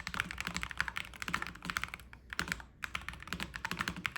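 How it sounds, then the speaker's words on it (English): Typing on an ASUS ROG keyboard with Hall Effect magnetic switches: rapid, close clacking keystrokes in fast bursts with a brief pause midway, crisp and alone with no talk. "one of the better sounding and feeling stock Hall Effect keyboards I've tried"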